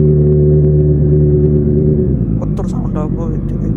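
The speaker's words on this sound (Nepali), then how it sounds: "अब यो बाइक तात्न पनि टाइम लाग्छ कि" A motorbike engine idles steadily while warming up, a close, continuous low rumble with a faint rising rev near the end, heard with a nearby voice talking over it.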